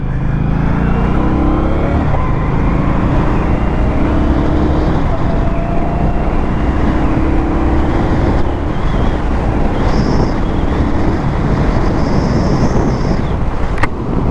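A 2020 Indian Scout Sixty Bobber motorcycle being ridden on the road, its engine droning and rising beneath heavy, continuous wind buffeting at the rider's microphone, loud and close throughout.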